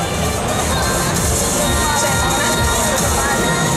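Crowd at a lolita fashion contest cheering and clapping for a J-Rock-styled contestant, a dense, steady roar of voices and applause filling the whole stretch at close range.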